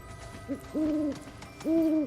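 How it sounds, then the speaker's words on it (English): Owl hooting in the video game Final Fantasy VII Rebirth: a short soft hoot followed by two longer, clear tonal hoots, close and alone over quiet ambient game background. "Yeah, that owl there."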